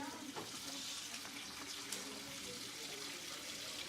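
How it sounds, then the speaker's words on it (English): Water pours steadily from a tap to fill a film developing tank for a pre-rinse, a constant close splashing rush with no pauses, and no speech is heard. "when we pre-rinse, we just fill it up with water."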